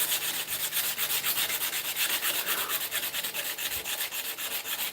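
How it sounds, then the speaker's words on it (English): Rhythmic scratchy rubbing of fresh sandpaper on a knife, close and steady, with quick back-and-forth strokes and no voices. "let's get hand sanding. The fresh sandpaper should cut through really quickly."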